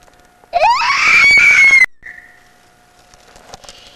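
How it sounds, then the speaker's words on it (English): A person screams on request on a 1994 family trip to Zion and Bryce, one loud, long rising shriek lasting over a second and close to the mic. A faint whistle-like tone and quiet background follow. "Okay, give us a scream."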